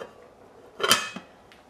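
A lid set down on a pot of kale soup, a single sharp metallic clink with a short ringing clatter, then a faint second tap, otherwise quiet.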